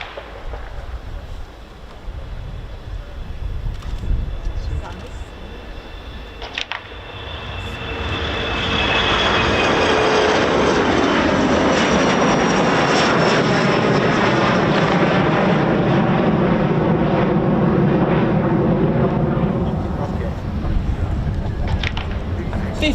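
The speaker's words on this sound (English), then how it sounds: "They can still do performance takeoff these days." Eurofighter Typhoon FGR4 fighter jet making a performance takeoff at an RAF airbase, its roar building from a distant rumble into a loud, sustained full-power blast that holds steady to the end.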